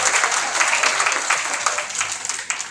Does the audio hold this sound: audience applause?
yes